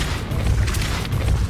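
A Depulso spell is cast in the Hogwarts Legacy video game, giving a short, deep booming thump with a low rumble that holds for about a second and a half.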